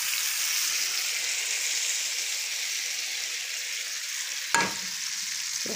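Fava beans fry with butter and garlic in a pan, a continuous close hiss and sizzle, broken once by a brief clatter as they are stirred.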